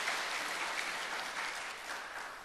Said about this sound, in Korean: 어쨌든 박수 받으니까 기분은 좋습니다.